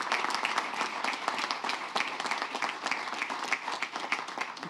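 An audience claps in steady, dense applause for several seconds, even and unbroken, with no voices on top.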